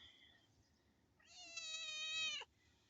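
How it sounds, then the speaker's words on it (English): A cat gives a single drawn-out meow of about a second, clear and fairly close against quiet outdoor background noise on a farm. "Kitty, kitty, kitty, kitty, kitty. Come here, LBJ."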